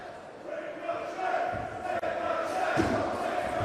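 A wrestling crowd at a Pro Wrestling World Cup quarter-final in Manchester roars steadily throughout, a broad, sustained cheer with shouts rising in places, heard under a commentator's voice.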